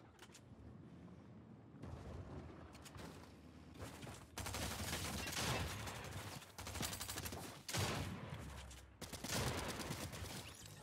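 Gunfire erupts in a Fortnite Chapter 3 battle while a player uses a sniper rifle. Dense, repeated shots and bursts crackle continuously with heavy booms, fairly loud throughout and with no talking.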